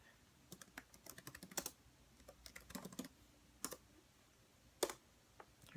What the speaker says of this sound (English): Let me type your name in first.